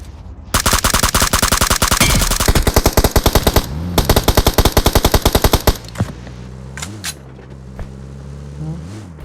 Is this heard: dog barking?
no